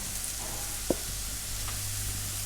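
Fresh mushrooms sizzling in hot oil in a pan, a steady close frying hiss with a low hum underneath and a single small tap of a utensil.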